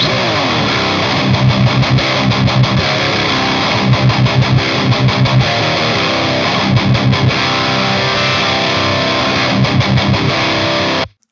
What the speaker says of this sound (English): I prefer the raw sound of the preamp.